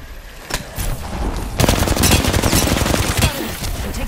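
Rapid automatic gunfire in the video game Apex Legends, a sparse opening of shots giving way to a dense, sustained fusillade of loud bursts that fill the whole stretch.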